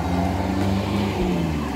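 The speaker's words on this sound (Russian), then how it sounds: "К сожалению, очень шумно. Много едет машин" Steady road traffic passing close by on a street in Spain, a continuous loud engine and tyre rumble with a low hum that swells slightly as vehicles go by, with no talk.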